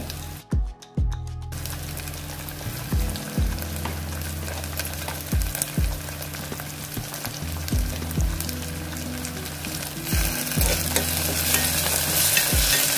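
Tomato pieces sizzling in a pan of cumin and mustard seeds over medium heat, with a steady frying hiss, a sharp splutter at the start and repeated scrapes and knocks of stirring, all without talk.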